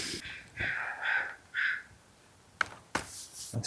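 Crows caw outdoors, three harsh calls in quick succession at moderate distance, followed by a couple of sharp nearby clicks and rustles.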